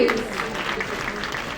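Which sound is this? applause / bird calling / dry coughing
applause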